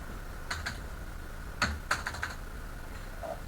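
Keys tapped on a computer keyboard while entering code, in a few quick bursts of sharp clicks with short pauses between, fairly close and clear against a quiet room hum.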